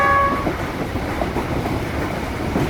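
A slow, noisy Cambodian train sounds its horn in a short sustained blast at the start, then the rolling rumble and clatter of the carriages continues loudly on its own.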